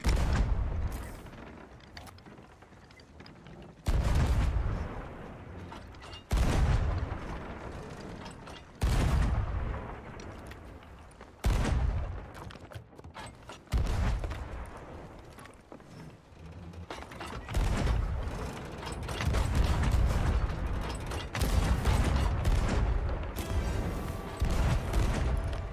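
Gunfire rings out in an online shooter game during a multiplayer world event, with several loud bursts of shots and booms separated by brief quieter stretches, mixed with mechanical creaks and clatter.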